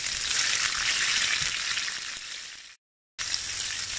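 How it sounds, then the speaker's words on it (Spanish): Garlic and peppers sizzle steadily in a generous splash of oil in a frying pan, a bright, close frying crackle that cuts out briefly and then resumes, with no voices. "En la misma sartén, un buen chorro de aceite para sofreír los ajos y los pimientos"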